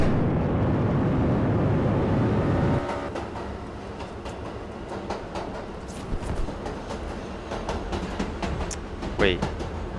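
A train in the Roblox game Jailbreak rumbles past with a steady rolling rush and clattering wheels, loudest at first and then easing, while a player talks over it.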